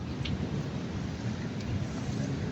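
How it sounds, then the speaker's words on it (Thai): Heavy rain pours in a steady, loud, dense wash with no clear breaks, and a faint rumble sits underneath. "ตอนนี้ฝนตกปล่อยๆแล้ว"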